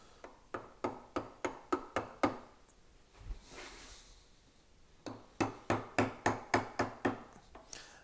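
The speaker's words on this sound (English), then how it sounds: "That allows me to use this chisel in a curved way." A wood chisel carves a lamb's tongue detail, working from both directions with the bevel down: two bursts of sharp, evenly spaced taps and knocks, about seven each, separated by a brief softer scraping pause, close by with no talking.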